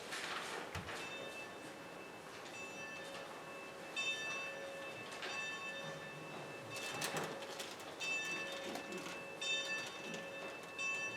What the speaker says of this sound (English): we'll have our chimes